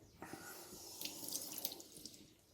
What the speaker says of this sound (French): je vais mouiller un petit peu